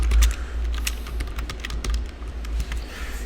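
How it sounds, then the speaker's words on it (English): Rapid, irregular clicking of keys on a computer keyboard, close up and fairly crisp, a short burst of steady typing with no speech over it. "Let's type in marriage problems here"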